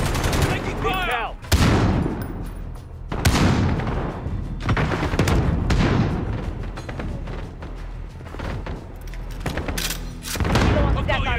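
Video game gunfire from a military extraction battle, with loud, close bursts of automatic fire and heavy booms repeating across the scene and voices calling out between shots.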